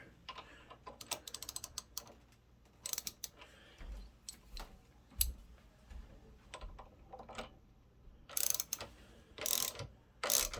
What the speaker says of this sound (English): you just have to reverse the direction on your ratchet